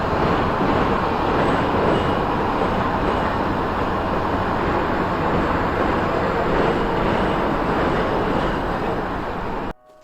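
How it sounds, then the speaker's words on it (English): Flare stacks at an oil refinery roar with a loud, constant broadband rushing that holds steady before cutting off abruptly at the end. "As you can hear the sound from the refinery when they are flaring,"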